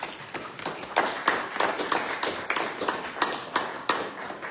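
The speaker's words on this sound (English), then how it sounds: "Let's give him a big hand of applause" Clapping at a Sunday church service, a small congregation applauding a singer with distinct, uneven claps and thumps at moderate distance, fairly soft overall.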